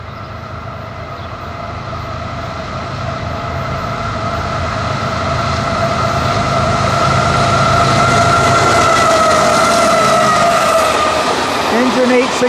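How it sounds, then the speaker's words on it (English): A long freight train led by Norfolk Southern locomotive 862 approaches and passes close by, its heavy rumble building steadily to a loud, sustained roar with engine drone and rail noise. "here comes the train"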